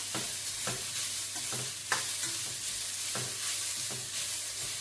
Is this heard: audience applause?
no